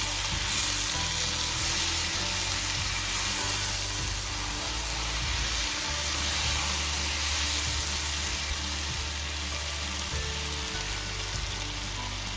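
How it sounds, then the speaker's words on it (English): Vegan pumpkin hot curry bubbling in an uncovered pan, a dense, steady hiss and sizzle that holds unbroken throughout, with faint stirring underneath and no speech. "Taken the cover off again. You just need to stir it."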